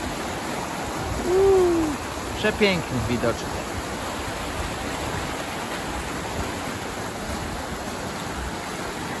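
Steady, full rush of a waterfall and flowing water in a cool outdoor spot, constant and close, with someone briefly speaking and exclaiming over it.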